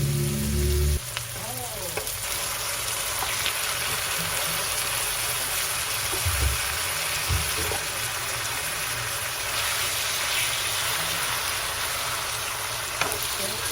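Chicken breast dropped into a hot pan for chopsuey after onion, garlic and ginger, setting off a loud, steady sizzle and crackle that carries on throughout, with a few pan clatters along the way.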